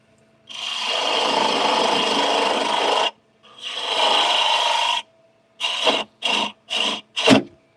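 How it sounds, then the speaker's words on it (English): A bowl gouge shaping a wooden bowl on a lathe, giving a close, steady rasping cut that runs for a few seconds, pauses, resumes, then breaks into four short bursts. "I put the bowl gouge in the wrong direction there"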